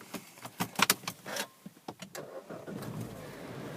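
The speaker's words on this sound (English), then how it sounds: "just looking at the display whilst I start the car" A Mini Cooper starts up after a few jangling clicks and key sounds, the engine catching and settling into a low, close idle.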